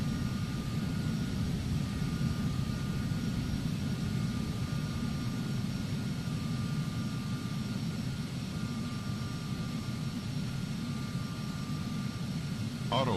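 A Phenom 300 jet in the Prepar3D flight simulator takes off with a steady, loud jet engine roar and a thin whine that holds throughout, with no speech.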